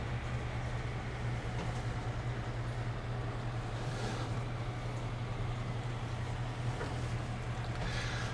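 A tractor engine in Farming Simulator 19 gives a steady low droning rumble with a constant hum and no pauses. It is heard alone, fairly quiet, with no speech.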